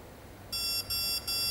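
Three high electronic beeps sound in quick succession, evenly spaced and fairly close, over a quiet background.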